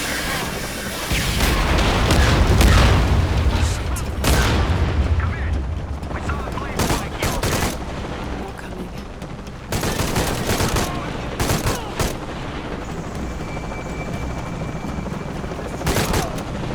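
Gunfire in the video game Shadow of the Tomb Raider: repeated loud volleys of shots and booming blasts come in clustered bursts, with voices talking over parts of it.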